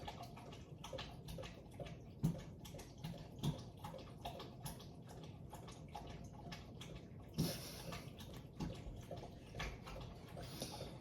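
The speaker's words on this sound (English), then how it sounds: "that is just my dog, just drinking water" A thirsty dog laps water from a bowl indoors: quick, rhythmic, wet tongue-flicks that are quiet and close, with a few louder slurps standing out from the steady lapping.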